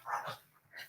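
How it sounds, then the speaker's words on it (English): A female dog retching and choking something up, a short burst of gagging, hacking sounds close by and fairly quiet, with a brief pause before a final heave. "can you hear my dog like choking up something?"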